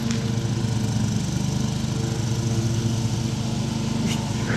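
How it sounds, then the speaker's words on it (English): A lawn mower engine runs steadily at close range, a constant droning hum with a buzzing low-end tone that holds at the same level throughout, with no voices over it. "Hit the lawnmower."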